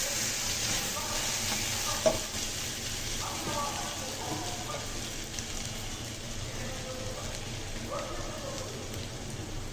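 Onions turned reddish fry in hot oil with spices for eggplant bhaji, giving a steady rain-like sizzle. Occasional scraping stirs and a sharp clink sound close by, while a voice speaks faintly over the cooking.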